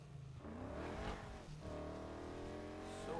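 A car in the Need for Speed Heat racing game drives and accelerates, its engine pitch climbing and shifting through gears, with a brief tire squeal, fairly close and steady.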